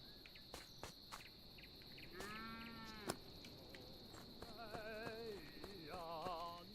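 A cow moos twice in the farming video game Epic Chef, with drawn-out, wavering lows at mid distance. Constant cricket-like insect chirring and scattered clicks sit underneath.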